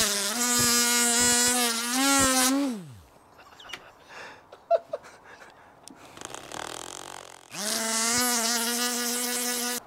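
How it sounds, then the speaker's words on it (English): A prototype lens buffing grinder whines with a high, steady electric buzz that spins down, leaves a stretch of quieter clicks and rustles, then starts up again just as loud. "Introducing the Chris Nichols Signature Easy Miracle Buff Magic Lens Grinder"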